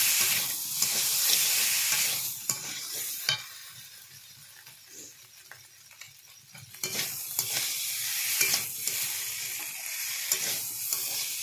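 Potatoes fry in a pan with loud, constant sizzling and hissing, broken by scraping stirs; the sizzle dips quieter midway before surging back, close up with no voices.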